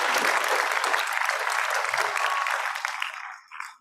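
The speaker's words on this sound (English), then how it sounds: "A huge round of applause for our little ones" An audience at a pre-primary school convocation ceremony claps loudly for the young children, a dense, steady burst of applause that fades out toward the end.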